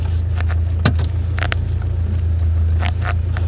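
A 39-year-old Toyota Corolla DX engine idling steadily with a deep, even low rumble, close and constant, with a few light clicks and rattles on top.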